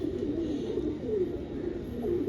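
Pigeon cooing in a loft, a low soft repeated coo rolling steadily through the whole stretch at moderate level, with no talk.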